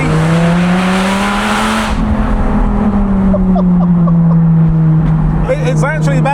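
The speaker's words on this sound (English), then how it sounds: "We love a loud car." A loud sports car engine with modified exhaust roars and revs up, exhaust droning steadily and rising in pitch, heard with windows up, with faint squeals near the end.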